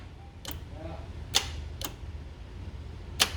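A car's starter motor solenoid clicks without cranking the engine: four sharp, separate clicks spread across a quiet garage background, with faint low hum between them.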